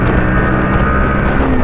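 A 2024 Bajaj Pulsar NS125 BS7 motorcycle engine pulls hard in second gear while riding, a loud continuous drone mixed with heavy wind rush over the microphone.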